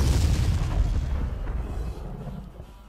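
A large explosion in ARMA II, a deep rumbling boom that fills the low end and slowly decays over a few seconds, heard alone without talk.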